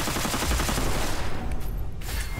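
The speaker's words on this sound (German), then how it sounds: "Das ist gar nicht eine Einzelschussknarre. Also auch, aber die ist vollautomatisch." Fully automatic gunfire from a weapon in the video game Witchfire, a rapid burst of loud, closely spaced shots that runs steadily before tapering off near the end, with no talk.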